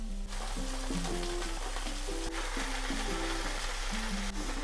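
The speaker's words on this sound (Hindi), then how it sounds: "इसको हम करीब 2 मिनट पकाएंगे, भूनेंगे ऑयल में" Potato pieces and fresh fenugreek leaves fry in hot oil for homestyle aloo methi, giving a loud, continuous sizzle with the clink and scrape of stirring over it. A steady low hum runs beneath, and no one speaks.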